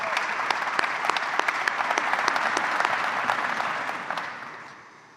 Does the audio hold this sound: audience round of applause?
yes